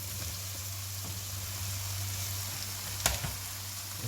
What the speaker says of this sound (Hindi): अब इसके अंदर हम डालेंगे मशरूम्स